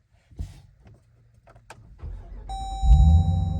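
A 2023 Dodge Durango SRT Hellcat starts up, with quiet cabin clicks and shuffles, then a chime and a deep engine roar swelling loud up close at the end.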